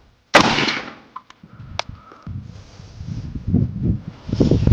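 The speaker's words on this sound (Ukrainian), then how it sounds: "І четвертий постріл." A single sharp, loud assault rifle shot bursts out near the start while zeroing on a target, followed by a faint metallic click and low rustling handling noise.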